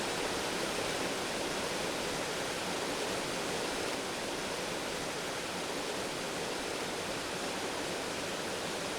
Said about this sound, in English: With the waterfall behind it.